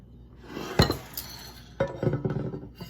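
Sugar cookie batter being scooped and dropped onto a cookie sheet, with a few distinct clinks and scrapes of utensil against metal and bowl, close and moderately loud with quiet gaps between.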